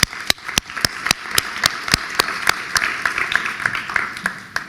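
Round of applause from an audience at a university commencement ceremony, a dense broadband wash of many hands with a few sharp louder claps standing out, steady and fairly close throughout.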